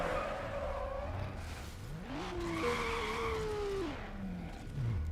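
A car in Need for Speed: Underground on PS2 skids against a wall, tires squealing in a long rising and falling screech over steady engine and road noise.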